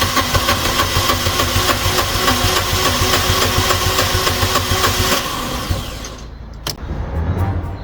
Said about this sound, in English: It tries to fire up